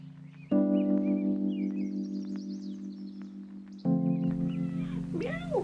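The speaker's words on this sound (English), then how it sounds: "I have a cat." A cat meows twice, close and loud: a long drawn-out call followed after a short break by a second, wavering one.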